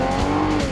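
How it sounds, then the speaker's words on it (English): Car engine revving hard in a brief, loud, sustained roar with a steady tonal whine, heard close up and alone. "Rev up your engine!"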